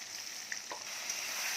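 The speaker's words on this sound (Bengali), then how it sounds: "টমেটোটা হালকা হালকা ভাজা ভাজে হয়ে গেছে" A quick burst of tomato with ginger, garlic and green chili paste frying in a pan, a steady close bright sizzle lasting under two seconds, with no speech.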